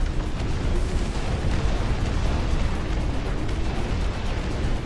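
Incendiary artillery shells from the real-time strategy game Dustfront burst without pause, a dense, loud, rumbling wash of overlapping booms and crackles.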